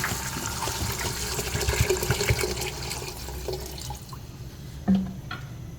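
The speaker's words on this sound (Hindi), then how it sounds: "राजमा डाल देंगे और इसमें हम पानी ऐड करेंगे।" Water runs and splashes steadily into a cooking pot of kidney beans for several seconds, then tapers off, ending with a soft knock of the pot.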